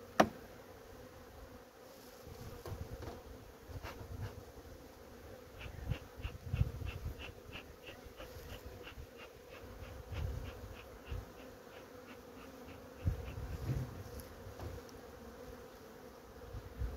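Honey bees buzz steadily around an open hive as frames are inspected, a dense, even hum with occasional faint clicks and bumps from handling the hive.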